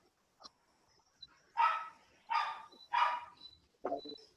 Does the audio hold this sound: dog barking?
yes